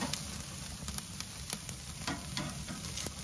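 Lamb rump steaks sizzle on the grate of a Kamado Joe Classic charcoal grill, giving a steady, moderately quiet crackle with small pops scattered throughout and no voices.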